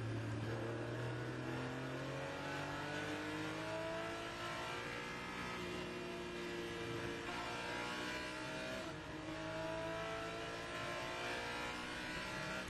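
Race cars lapping Road America during an enduro, engines revving and downshifting as they brake through the Speedville Bridge section into the carousel, several cars blending in a continuous loud roar with rising and falling pitch.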